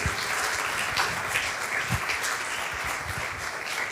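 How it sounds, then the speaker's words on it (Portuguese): Congregation applauding during a church service, a steady, dense round of clapping heard at moderate level throughout, with a few louder individual claps standing out and no speech over it. "Você pode aplaudir o Senhor pela sua semana?"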